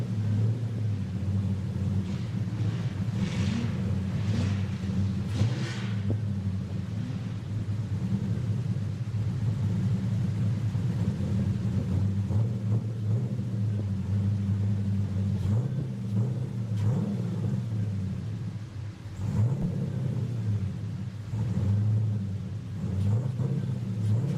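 A Nissan 350Z drift car idles and revs at Mission Raceway Park during a drift qualifying event. A continuous low engine rumble carries throughout, with occasional throttle blips and faint background crowd noise.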